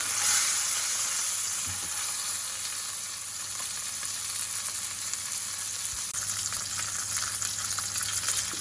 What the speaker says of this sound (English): I'm going to just keep roasting this all the way around till I get nice colour on it